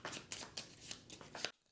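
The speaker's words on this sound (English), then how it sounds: "This gets shuffled." A deck of cards for the tabletop game Flip Voyage being shuffled, quiet crisp riffling bursts repeating about every quarter second before stopping abruptly.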